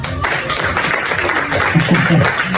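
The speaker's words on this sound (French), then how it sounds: "Applaudissez, allez-y." A theatre audience in Paris claps during a hypnosis show, a short burst of mixed applause with a voice briefly audible underneath.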